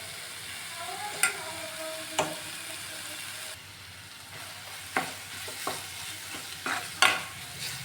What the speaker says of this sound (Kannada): ಮಸಾಲೆ ಎಲ್ಲ ಸ್ಮೆಲ್ ಹೋಗೋವರೆಗೂ ಚೂರು ಬಾಡಿಸ್ಕೊಂಡು